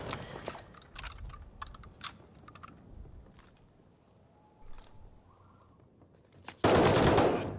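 An MP40 submachine gun fires in Call of Duty Vanguard, with scattered sharp shots and short bursts followed by a loud, dense burst of close fire at the end.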